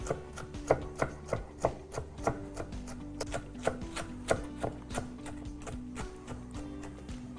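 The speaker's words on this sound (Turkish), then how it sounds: "O yüzden ince böyle ufak küpler haline getiriyorum." A knife chops peppers into small cubes on a cutting board. Quick, fairly even strikes land close and crisp, about three per second, then slow slightly with softer taps toward the end, with no talking.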